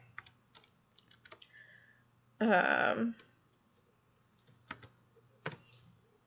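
Light, scattered keyboard clicks tap away quietly, broken by a brief louder rustle, then the sparse key presses continue.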